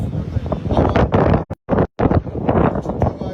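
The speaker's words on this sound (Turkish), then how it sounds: "yangın daha aşırı şiddetli rüzgar var" Strong wind driving a forest fire in Muğla roars in loud, broadband gusts that buffet the microphone, with a couple of brief sharp dropouts midway before the rushing noise resumes.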